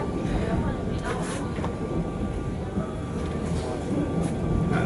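The Jungfraubahn rack train reverses at the Grund junction. Its steady rumble and rolling rail noise are heard from inside the carriage, with faint clicks and passenger voices in the background.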